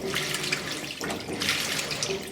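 Water rushes steadily into the center of a 2002 Kelvinator K605 washing machine tub during a regular-cycle fill, with the agitator removed. The hiss is continuous and fairly loud for its full length, with no voices.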